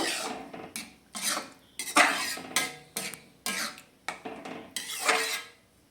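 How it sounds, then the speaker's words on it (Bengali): Vegetable dal stirred after a teaspoon of hot ghee goes in, a series of rhythmic scraping ladle strokes against the pot, about ten distinct swishes in a steady pattern, close and alone. "এবার আমি এর মধ্যে দিয়ে দেব 1 টিস্পুন গরম ঘি, দিয়ে এটা আবারও একটু নাড়িয়ে দেব।"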